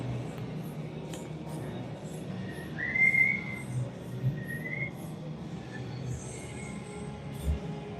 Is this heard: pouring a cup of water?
no